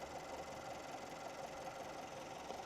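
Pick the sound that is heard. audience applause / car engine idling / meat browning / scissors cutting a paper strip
car engine idling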